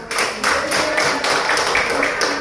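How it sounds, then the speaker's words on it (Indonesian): Students in a classroom clapping together for a classmate, a brief burst of dense overlapping claps that holds steady for a couple of seconds, with faint voices mixed in. "Mari kita beri tepuk tangan."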